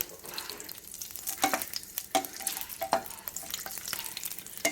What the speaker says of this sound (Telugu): ముందుగా పచ్చిమిర్చి వేయించుకోవాలి.